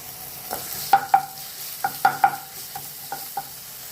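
Onions with ginger garlic paste sauté in a pan for a village-style cabbage koottu, a soft sizzle beneath a series of sharp scraping stirs that come in uneven pairs and singles, close and fairly quiet.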